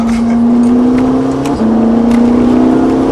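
A Ferrari 458 Italia accelerates on the Montlhéry race track, a loud close engine tone climbing steadily with a quick gear-change dip midway, then rising again.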